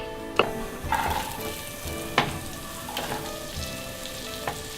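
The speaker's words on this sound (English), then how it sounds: "Get it all nice and stirred round, so that then all of the oil coats everything." Big chunks of garlic sizzle in oil in a pan, crackling steadily close up while a utensil scrapes and knocks against the pan in several sharp strokes as everything is stirred.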